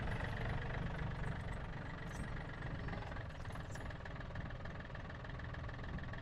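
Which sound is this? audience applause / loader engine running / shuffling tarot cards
loader engine running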